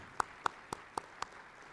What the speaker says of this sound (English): Let's also give a big round of applause to Zach and his team for putting on this wonderful conference.